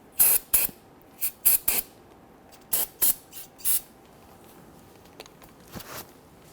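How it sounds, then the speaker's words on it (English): Several short bursts of aerosol solvent cleaner hissing up close, grouped in quick pairs, then a few fainter puffs trailing off. "Go ahead and clean it up with some spray solvent."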